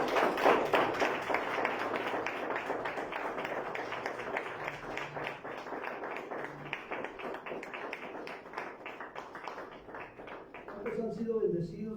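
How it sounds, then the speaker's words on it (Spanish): A church congregation claps together in a steady, dense round during a Thursday evening service, fairly even throughout, before fading as voices return near the end. "Dale un fuerte aplauso al Señor."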